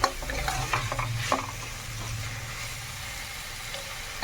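Tomatoes sizzle steadily in a pan for pasta sauce while a spoon scrapes and stirs them with several quick strokes early on, close and moderately loud.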